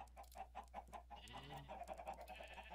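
Rhythmic, repeated chicken clucks from a modded Minecraft farm, a small flock of egg-laying birds clucking steadily and softly in a quiet game scene.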